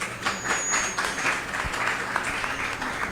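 Audience applause at a singing contest audition, a broad wash of clapping that swells and dips in uneven waves at moderate loudness, with no voices over it.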